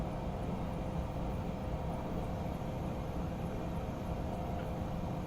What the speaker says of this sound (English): Can you guys see that train going by my house right now?